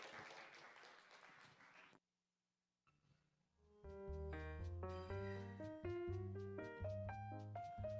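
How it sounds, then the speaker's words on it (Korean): A church congregation at a Sunday youth worship service claps for about two seconds, a dense, steady patter that cuts off abruptly. After a short silence, music begins. "다시 한번 기영제를 위해서 큰 박수로 환영하겠습니다."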